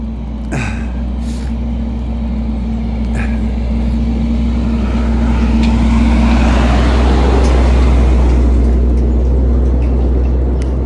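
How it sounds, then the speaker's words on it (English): Big truck rumbling past on a road, a heavy low engine drone building louder toward the middle and end, with faint brief squeaks early on. "Oh, here comes a big truck."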